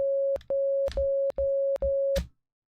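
Morse code for the number 10 keyed as a steady electronic tone, one short dot then a run of long dashes in even rhythm, clear and alone.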